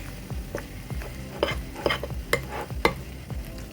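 A spoon stirs beer batter in a bowl for vegan fish tacos, making rhythmic wet scraping and knocking strokes about twice a second, close up with no talking.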